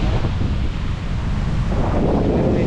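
Strong wind buffets the microphone at a fish-weighing spot, a loud, steady low roar and rumble with constant gusty crackle and no pause.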